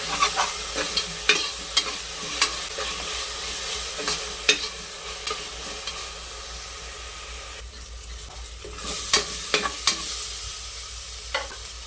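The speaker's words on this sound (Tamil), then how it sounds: "அந்த பேஸ்ட்டை போட்டுக்கலாம் போட்டு நல்லா மிக்ஸ் பண்ணிக்கிறோம்" A ground paste of shallots, mint and coriander frying for chicken biryani, stirred in a hot pan, with a continuous close sizzle broken by repeated sharp scrapes and clacks of the spoon, no voices.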